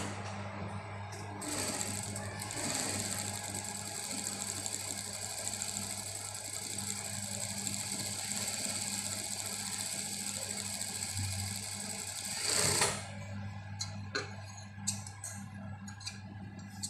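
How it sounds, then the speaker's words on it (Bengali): A sewing machine hums and clicks quietly while stitching a folded, pressed shirt sleeve hem, a steady faint mechanical drone with a brief louder burst near the end. "এখন আমি এটা তোমাদেরকে সেলাই করে দেখাবো।"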